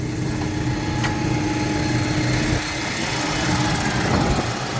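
A Zetor Proxima HS120 tractor's Deutz Stage V diesel engine runs steadily at close range, a constant low rumble with a faint mechanical whine, no voices.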